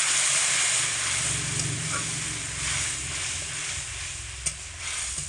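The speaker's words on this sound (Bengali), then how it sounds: "এর মধ্যে দিয়ে দেবো খুব অল্প করে একটু জল, দিয়ে দিচ্ছি।" A little water hits sizzling masala for a papaya, potato and moong dal dish and is stirred in. A loud, continuous hiss fades slightly, with one sharp utensil tap near the end.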